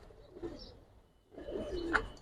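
Soft, low pigeon cooing in a quiet space, a faint murmur early on, then a fuller, louder coo near the end.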